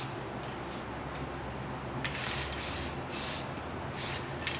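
Aerosol paint hissing from a rattle can onto a Raleigh Bomber bike frame during restoration, four close bursts of spray, each about half a second long, following a quiet stretch with faint rubbing.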